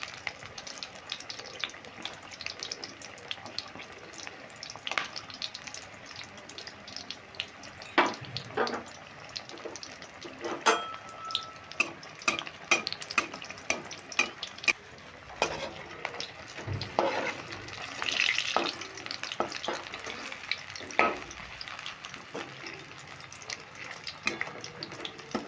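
Chili chops frying in a pan of hot oil while oil is spooned over their tops, giving a steady sizzle with scattered clicks and scrapes of the spoon, close and moderately loud, with no talk.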